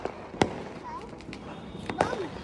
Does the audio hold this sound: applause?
no